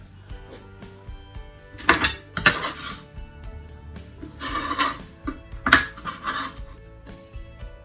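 A small bowl is pulled out from among stacked dishes in a home kitchen, setting off several loud, close ceramic and metal clatters and clinks in short bursts, with quieter rattling between them.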